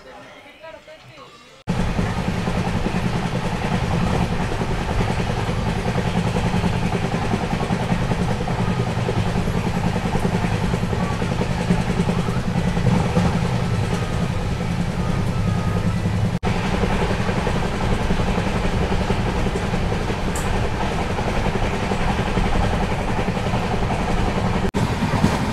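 The Rani Chennamma Express pulls into Chikkodi Road station, a loud sustained rumble of wheels and engine that begins abruptly after a quiet start and runs on steadily, with faint people talking beneath.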